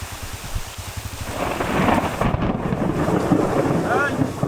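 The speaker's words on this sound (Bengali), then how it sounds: "ঘুড়ি ওড়ানোর মাঝেই বৃষ্টি শুরু হলো" Rain falls on a sandy river island amid rumbling thunder, a dense loud wash of drops with low booms and gusty wind buffeting the microphone.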